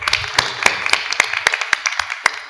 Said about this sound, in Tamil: ஒரு பலத்த கைத்தட்டலோட.